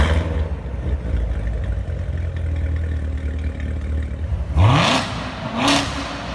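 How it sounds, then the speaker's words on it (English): A stock C7 Corvette Z06 with its supercharged LT4 V8 and factory exhaust idles with a rough, loud burble, then snaps into two sharp revs near the end that rise quickly and fall away. "these LT4s have an incredibly ballistic and aggressive exhaust note."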